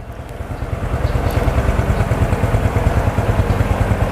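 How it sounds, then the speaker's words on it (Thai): A Honda Wave motorcycle converted to four wheels, with a hydraulic dump bed and shaft drive, idles steadily close by, its loud, even throbbing engine running alone without any talk. "เดี๋ยวเราดับดับเครื่องก่อนเดี๋ยว จะเสียงดังได้พูดกันไม่รู้เรื่อง"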